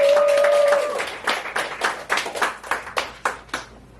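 Audience at a poetry reading in the Rialto Theatre clapping in a loose, fading round of applause, the dense opening thinning into scattered separate claps near the end, with a brief tone at the start.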